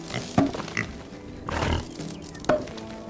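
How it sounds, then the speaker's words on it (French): Piglets in the farming video game Farm Together, giving a few short grunts and oinks spread across a few seconds, with a busy game background and no talk. "Les petits cochons nous donnent des choses."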